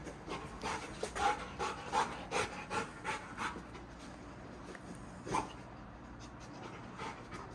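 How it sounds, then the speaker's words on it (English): A dog pants rapidly and audibly at close range in a hotel room after running back and forth, breathing in a steady rhythm that fades toward the end, with no talking. "he just goes buck wild, running back and forth, panting"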